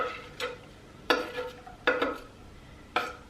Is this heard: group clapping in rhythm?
no